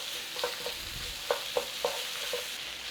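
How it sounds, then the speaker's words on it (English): Tomato paste being stirred into a frying pan for shepherd's pie. A low sizzle runs underneath a few soft, clear scrapes and taps of a utensil against the pan, with no talking. "Give that a little stir through."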